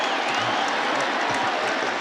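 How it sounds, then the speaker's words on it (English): A football stadium crowd at a college game roars steadily during a long run, a broad sustained wash of cheering and applause at full volume with no pauses. "And you hear the crowd"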